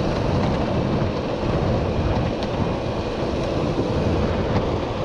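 A DIY 10s5p electric skateboard runs at full throttle in eco mode, giving a steady, loud rushing roar of wheels and wind buffeting the microphone throughout, with no voices.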